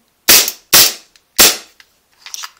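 A SOCOM Gear Hitman M9 airsoft gas pistol using a WE magazine and Garda Power Up gas fires three sharp, loud shots with the slide cycling, the first two in quick succession and a third after a short pause, then faint handling clicks.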